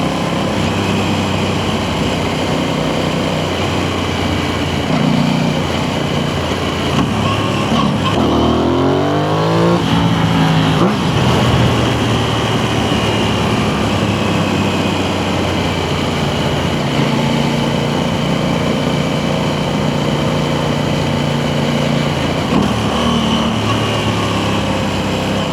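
An Aprilia Tuono 660 sportbike at riding speed: the engine drones steadily and close under constant wind rush, with a brief rising rev around the middle, and no one speaking.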